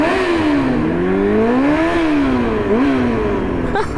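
A Honda CB400 Super Four motorcycle engine revs up and down repeatedly, its pitch rising and falling in loud, close waves with no break.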